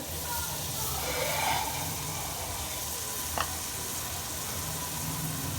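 Potatoes tipped into frying masala for an aloo gravy give a continuous moderate sizzle and hiss, with a soft scrape and a single sharp clink near the end.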